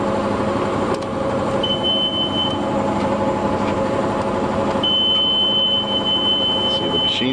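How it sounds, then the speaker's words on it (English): A transmission fluid exchange machine hooked to a 2011 Ford Edge hums and churns steadily as it primes itself, with a thin electronic whine sounding briefly twice over the drone. "Once we put the power to it, what will happen is the machine will prime itself."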